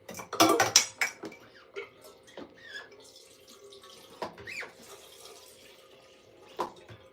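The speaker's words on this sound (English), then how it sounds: "Let me put some water in my teapot" A teapot is handled at a kitchen sink and filled with water for coffee, with a cluster of clattering metal knocks followed by sparse clinks and a soft trickle of running water, close and without talk.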